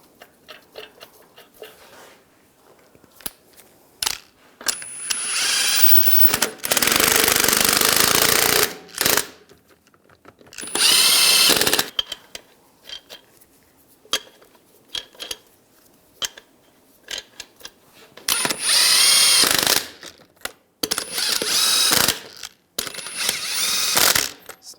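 Lug nuts are snugged down on a 2011-2018 Ram 1500 rear wheel with a power tool, several loud buzzing bursts of a few seconds each separated by quiet ratchety clicks and handling noises.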